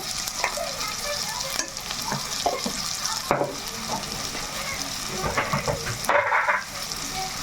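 Freshly ground masala frying in a pan for a chicken curry, with a steady close sizzle throughout and repeated scraping, stirring knocks against the pan, slightly louder near the end; no talking.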